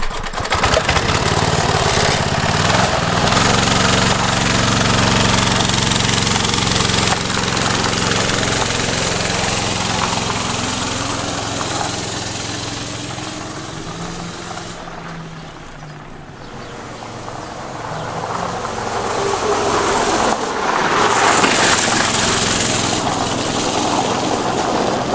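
Go-kart engine running under its own power, a loud, steady mid-pitched drone with throttle swells, a brief dip in the middle before the revs climb again, no talking.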